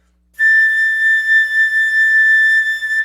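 A flute holds a sustained high A with vibrato for about three seconds, played alone, its loudness wavering gently.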